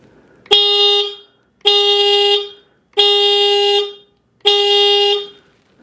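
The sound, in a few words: motorcycle stock horn honking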